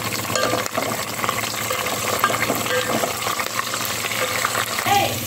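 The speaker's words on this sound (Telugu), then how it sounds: "ఎర్రగడ్డలు ఎర్రగా వేగిన తర్వాత పచ్చిమిర్చి వేసుకోవాలి." Onions and green chillies fry in a pan for mushroom biryani, a busy close crackle with stirring and scraping throughout.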